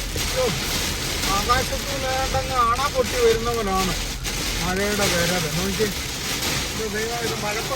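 Heavy rain pours down in Saudi Arabia as a dense, steady roar, with people talking over it throughout.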